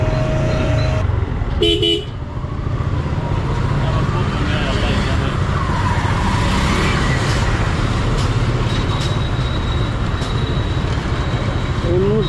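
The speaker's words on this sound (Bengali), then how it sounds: "বাইকের একটা ইম্পর্টেন্ট পার্ট হলো এই হর্ন" A motorcycle horn gives a brief honk near the start, set against constant traffic rumble and people talking throughout.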